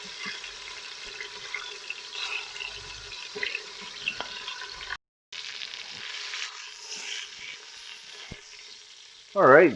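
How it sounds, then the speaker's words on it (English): Oxtail pieces searing in a hot pan give a steady, close sizzle and crackle with occasional stirring, a brief drop to silence midway, and a louder burst of frying at the very end. "And we really want that sizzle."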